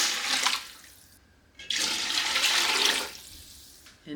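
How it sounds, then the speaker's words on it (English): Chicken stock pours into a soup pot in two close, loud, rushing splashes, with a short gap between them and a brief third splash at the end. "We're going to go ahead and add 2 quarts of chicken stock"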